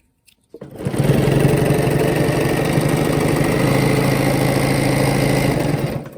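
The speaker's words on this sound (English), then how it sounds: "now I'm going to sew down this way on my drawn line" A sewing machine stitches a quilt along a drawn line during free-motion ruler work, giving a steady, continuous motor whir with rapid needle chatter that runs unbroken for about five seconds with no talking.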